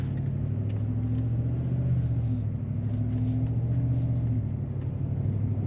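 Engine and exhaust of a Ford Raptor pickup with valved exhaust, heard from inside the cab with windows up: a steady low rumbling drone, muffled and even throughout, with no talk.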